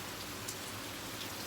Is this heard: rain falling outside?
yes